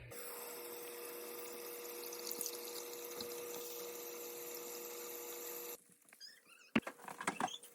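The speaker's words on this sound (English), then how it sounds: "So I'm gonna start by just covering the bones with water." Tap water pours steadily over turkey bones in a pot for broth, a constant close splashing stream that cuts off near the end, followed by a few faint clinks and rustles.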